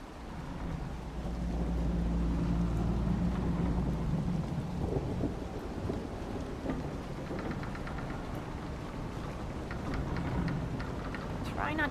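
A thunderstorm in Dragon Age: Inquisition, with a steady wash of heavy rain and deep rumbling thunder rolling underneath, continuous and fairly loud throughout, with faint ambient game sounds drifting in near the end.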